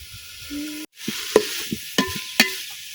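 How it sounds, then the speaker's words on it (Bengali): Potatoes are stirred and fried in a pan in a village kitchen, with steady sizzling broken by several sharp scraping knocks of the spoon against the pan, close and fairly loud, no talking. "এখন আলুটা কিছুক্ষণ কষাই নেম।"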